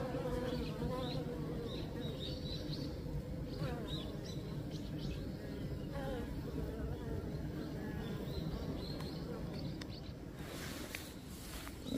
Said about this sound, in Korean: 요 놈은 장수 농약 농법에 노출된 벌들입니다